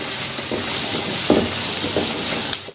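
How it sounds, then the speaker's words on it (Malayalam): Chopped onions sautéing in a pan for mutton kurma, giving a steady sizzle with faint stirring scrapes and a few louder crackles, close and continuous with no talk. "ഇനി ഒരു 3 സവോള ചെറുതായിട്ട് അരിഞ്ഞത് ഇട്ട് കൊടുക്കാം. ഇനി നന്നായിട്ടൊന്ന് വഴറ്റിയെടുക്കാം."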